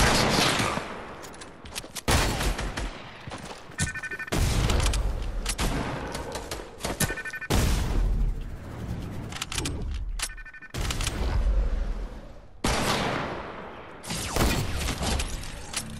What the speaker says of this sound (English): I got you with a sniper